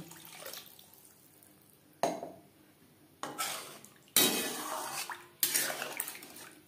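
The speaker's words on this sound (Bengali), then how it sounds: "এই পর্যায়ে দিয়ে দেব জল।" Water splashes into a pan of Bengali bata fish curry with vegetables and nearly cooked eggplant, a series of pours and splashes, close and fairly loud, with gaps of quieter sizzling between them.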